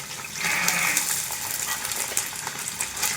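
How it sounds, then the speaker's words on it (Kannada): Green peas tipped into a hot pan of tempering with curry leaves and dry red chillies for vangibath gojju, setting off a close, bright sizzle with light stirring clatter that fills the short stretch. "ಈಗ ಬಟಾಣಿ ಹಾಕ್ಕೊಂಡ್ಬಿಡಪ್ಪ."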